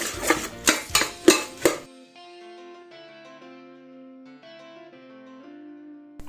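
A spoon scrapes and clanks through bhel puri mixed with chilli powder and masala in a bowl, about five quick rhythmic strokes, loud and close, then it stops and soft music notes play alone.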